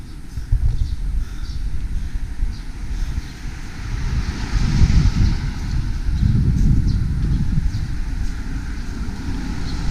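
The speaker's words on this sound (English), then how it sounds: "It's quite windy today and cold." Strong gusty, cold autumn wind in Japan buffets the microphone with deep rumbling surges that swell and ease over about ten seconds, with no voices.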